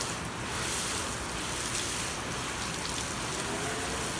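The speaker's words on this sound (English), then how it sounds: "Just want to rinse all that soap residue off." A hose on shower setting sprays water over a car to rinse off soap residue, a steady broad hiss of spray drumming on the paintwork, close and continuous without talk.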